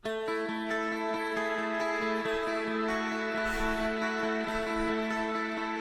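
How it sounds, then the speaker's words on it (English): Bright, clean electric guitars play a shimmering, chiming pattern of repeated notes, steady and layered, with no talking over them. "Next, there are some clean guitars, very chimey"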